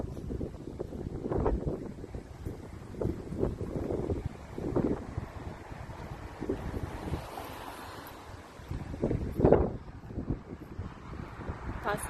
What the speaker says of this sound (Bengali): আজকে অনেক বাতাস, বাইরে অনেক ঠান্ডা।